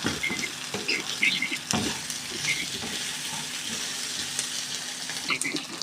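Cumin seeds frying in a pan while being stirred for a potato and chicken curry, giving a steady close sizzle with scraping stir strokes and a few sharper clicks throughout.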